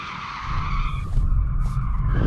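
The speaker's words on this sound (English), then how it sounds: "Before we race, we should probably warm up the tyres." BMW M8 in rear-drive-only mode spinning its tyres, a loud sustained skid and squeal over engine roar, close by, with the screech shifting partway through.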